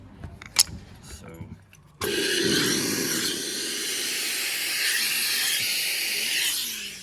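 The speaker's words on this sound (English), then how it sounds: "Baby Jean is amazed by the steam." A loud, continuous hiss of steam from a steamer shaping a straw cowboy hat starts abruptly and runs steadily to the end, following a few quieter clicks and rattles.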